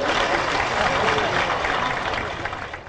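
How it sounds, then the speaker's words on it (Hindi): Sustained crowd applause at a political gathering, a steady dense wash of many hands clapping at close range that holds level and slowly tapers off toward the end. "तालियां बजाकर स्वागत करें बालकों का उत्साहवर्धन।"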